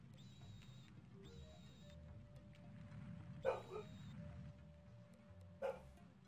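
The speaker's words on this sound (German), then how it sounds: "Dieser Hund, den ihr übrigens hier im Hintergrund hört, der gehört hier zu dem Haus irgendwie" A dog belonging to the house barks and yips faintly in the background, likely from a basement, a few short sharp bursts under steady game music.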